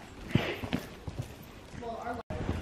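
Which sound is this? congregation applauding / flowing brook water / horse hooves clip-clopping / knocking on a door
horse hooves clip-clopping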